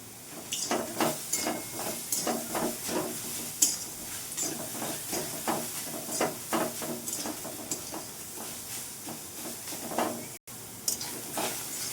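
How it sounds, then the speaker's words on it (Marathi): Onion and garlic dry-fry in a pan without oil, giving a close, uneven hiss and crackle broken by repeated rhythmic scraping strokes as the pieces are stirred, with a brief dropout near the end. "तेल न टाकता फ्राय करणार आहे कांदा"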